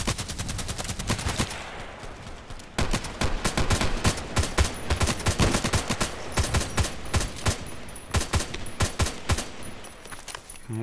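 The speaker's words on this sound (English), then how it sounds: "All this blind shooting." An HK417 airsoft rifle fires rapid bursts outdoors, a fast string of sharp cracking shots in uneven volleys, fairly close and with no voices.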